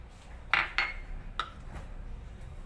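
Shortbread ingredients with a pinch of salt are mixed in a bowl, with a few sharp utensil clinks against the bowl over a quiet, soft background and no talking.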